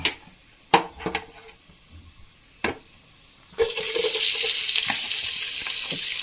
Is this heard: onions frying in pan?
yes